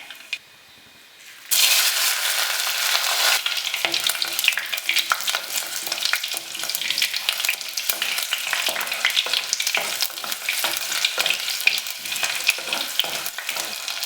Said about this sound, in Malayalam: എണ്ണ ചൂടായിട്ടുണ്ട്. നമുക്കിതിലേക്ക് കടുകിടാം.